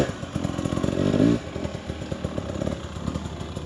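A brand-new 2024 Husqvarna TE300 two-stroke dirt bike climbing a hill, its engine loud and close, revving up hard then settling into a steady buzzing, rattling drone.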